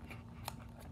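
Scissors snipping through the plastic packaging of sour apple candy ropes, one quick faint cut in a quiet room.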